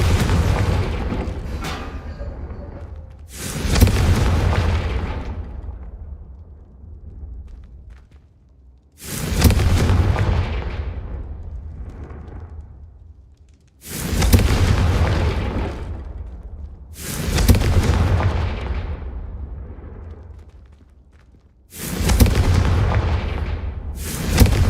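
Confringo fire spell explosions in Hogwarts Legacy, six heavy booming blasts at irregular intervals, each loud and close with a long rumbling decay.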